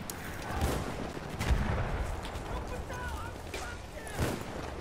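Gunfire in the World War I shooter Battlefield 1, several scattered distant shots and bursts over a rumbling battlefield background while players talk.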